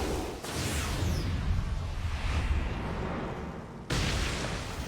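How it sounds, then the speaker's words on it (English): A roaring fire blast from the fireball jutsu in the Naruto Shippuden anime, a loud sustained rumbling whoosh that surges, dips, then rises again near the end. "Fire style! Fireball jutsu!"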